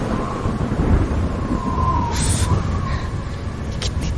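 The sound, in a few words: heavy rain and thunder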